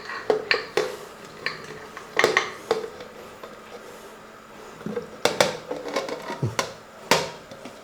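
Cleaned beef intestine is tipped into a pressure cooker in a home kitchen, giving sharp, scattered metallic clinks and clatters in irregular bursts with quiet gaps between them.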